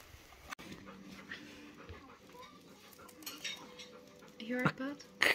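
An anxious dog whimpers and pants indoors in short, faint bursts near the microphone, mixed with soft clattering and a person talking quietly.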